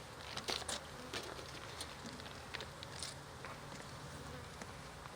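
Dense buzzing of many honey bees close by at an open hive during an inspection in a beeyard, a continuous hum with scattered louder passes and faint crackling taps, no talking.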